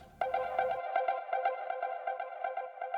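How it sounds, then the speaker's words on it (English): A transition sound effect sample plays on its own: a processed, pulsing synthetic tone that starts abruptly and repeats in a quick, even stutter rhythm, moderately loud and steady throughout. "Some more transition sounds."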